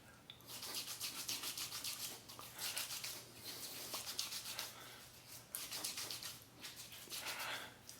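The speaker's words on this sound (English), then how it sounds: "Massage that into all the areas you intend on shaving." Clear shaving lubricant being massaged into facial skin with the hands, giving soft, faint rubbing strokes in uneven bursts close to the microphone.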